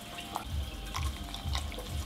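Water runs steadily into a bowl of oats, a soft continuous pour with faint splashing, quiet and close.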